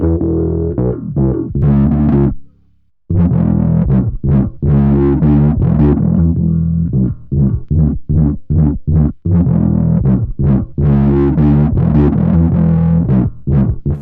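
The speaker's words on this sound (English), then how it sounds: "when I use Morgano after StamBecco, you get this very fat sound." Fat, saturated synth line run through the Morgano plugin after StamBecco plays choppy, rhythmic notes with thick low end and gritty distortion, loud and upfront, with one brief pause early on.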